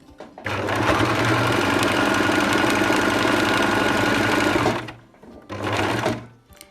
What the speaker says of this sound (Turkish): Köşeye kadar diktim bakın.